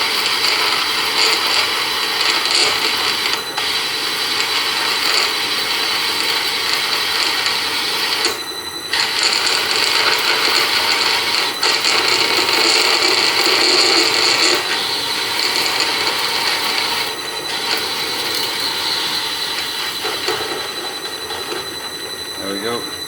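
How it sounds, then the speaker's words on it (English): A large 7/8 inch drill with a 2 Morse taper bores on a small machine, giving a continuous grinding, chattering mechanical drone with occasional brief dips, while a person talks at times. "I've actually got a 7/8 drill here with a 2 Morse taper"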